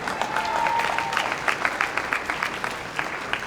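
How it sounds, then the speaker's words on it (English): Audience at a gala clapping for Canada, a fairly loud, steady burst of applause that fills the room with dense overlapping claps for several seconds. "You can applaud for Canada again."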